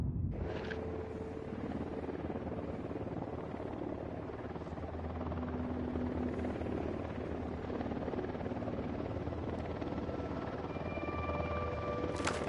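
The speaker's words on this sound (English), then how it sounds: "Helicopter incoming" A helicopter approaches in the video game Ghost Recon Wildlands, its steady rotor thump and engine drone holding throughout at moderate distance, with a few brief electronic beeps and tones layered over the continuous low rumble.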